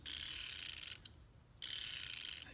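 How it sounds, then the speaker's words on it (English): A fast, steady run of tiny metallic clicks from a ratcheting wrench, pausing briefly in the middle before resuming, close and crisp. "as you can hear, it just sounds different and feels different from any other ratcheting wrench out there."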